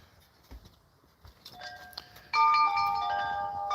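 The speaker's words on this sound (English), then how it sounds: "There's your chimes." Soft wind chimes ring with clear, sustained metallic tones that swell and linger, following a few faint taps and rustles.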